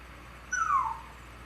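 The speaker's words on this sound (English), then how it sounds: "Why is the puppy crying?" A puppy lets out a single high, whining cry that slides downward over about half a second, fairly close and clear against quiet room background.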